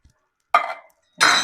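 Canned tomatoes being stirred into a pasta sauce, two short wet scraping strokes of a utensil in a pot, close and fairly loud, with a brief quiet gap between them and no talking.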